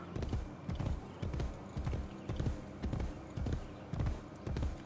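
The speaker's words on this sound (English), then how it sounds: "Thought I heard my horse somewhere." Horse hooves clip-clop in a steady trotting rhythm in the Assassin's Creed Brotherhood video game, set in Rome, moderately close and fairly quiet, with no talking over them.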